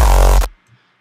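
Heavy synth bass patch built in NI Massive inside Logic 9, a loud dense growl holding for about half a second before cutting off abruptly into near silence.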